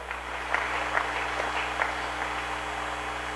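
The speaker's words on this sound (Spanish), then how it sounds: "Dele ese aplauso al Señor de gloria." Church congregation clapping during a Spanish-language service, a soft, steady patter of applause heard at moderate distance with a few louder claps standing out.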